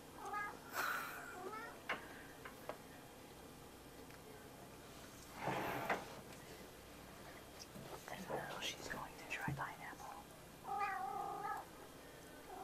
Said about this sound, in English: Featuring our cat in the back. Or more so under the table